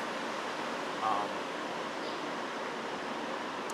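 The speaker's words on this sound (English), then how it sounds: "What you're hearing is the massive air conditioners on the roof." A steady broadband mechanical hum of large rooftop air conditioners, constant and fairly loud, with a faint brief chirp partway through.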